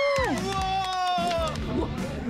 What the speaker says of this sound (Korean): 남다른 비주얼 덕분에 등장하는 순간 환호와 찬사가 쏟아지는데요